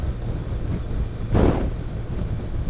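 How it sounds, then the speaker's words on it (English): Gusty wind buffets a car on an open road across fields, a steady low rumble of wind noise with one stronger whooshing gust in the middle. "Watching this wind, particularly on the open road across the fields, can blow us off our line if it's a little bit gusty."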